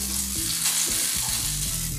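A cucumber used in place of a sausage fries in a hot pan, giving a steady close sizzle and crackle that fills the whole moment without speech.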